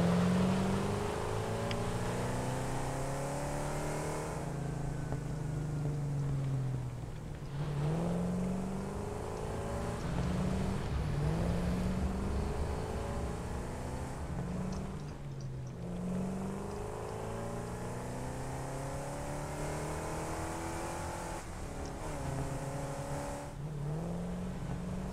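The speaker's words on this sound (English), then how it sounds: "let's just drive over and get some petrol" A vehicle driven in the video game Satisfactory, a continuous engine drone with rising and falling revs and gear shifts, steady and close throughout.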